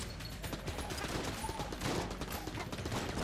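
Rapid AK automatic fire in Enter the Gungeon, a dense, continuous burst of closely spaced shots filling the whole moment, with faint talk mixed in.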